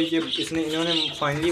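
Caged pigeons cooing close by in soft, rolling calls, partly under someone speaking.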